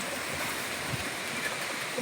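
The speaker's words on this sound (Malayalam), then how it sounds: "കാറ്റ് വരുന്നുണ്ട്, അതാ." Wind blows steadily across a cattle farm at midday, a soft broadband rush that stays even and fairly faint throughout with no talk over it.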